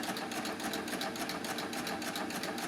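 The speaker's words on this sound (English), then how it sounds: "Thank God for the fact that we have speed control on these machines, because I would far rather stitch slowly and carefully than rush at it" A Baby Lock combination overlock sewing machine stitching slowly, its needle and looper mechanism chattering in a fast, even rhythm, close and steady throughout.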